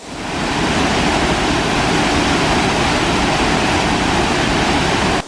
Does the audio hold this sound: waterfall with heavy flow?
yes